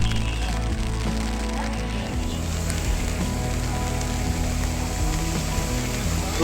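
Steady rain patters during a boat ride in the Sundarbans over a low, continuous engine rumble, with faint crackles throughout and no clear voices.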